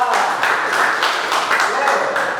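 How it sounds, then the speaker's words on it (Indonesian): Classroom applause for a student during an in-person teaching session, a small class clapping in loud, uneven bursts for a couple of seconds with some voices mixed in. "Oke, beri tepuk tangan untuk Mbak Jila."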